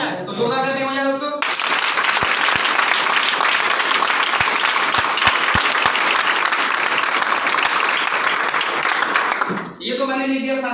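An audience at a business plan presentation bursts into loud, sustained applause for about eight seconds, with a voice heard briefly just before and just after the clapping.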